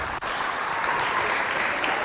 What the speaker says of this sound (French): On applaudit très fort encore.